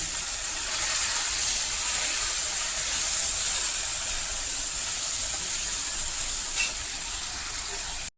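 Ginger garlic paste sizzles steadily in a pan of fish curry, a loud continuous frying hiss with no talking.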